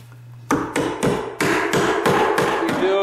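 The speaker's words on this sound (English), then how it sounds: "we'll bump it with the hammer, and if it wiggles, it needs a backup nail put in" A hammer bumps a carpet tack strip on a bedroom floor, giving about eight sharp, close, evenly paced knocks with no talk.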